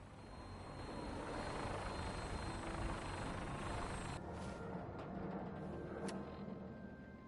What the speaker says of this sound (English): we have a vertibird on standby, fully armed and ready to depart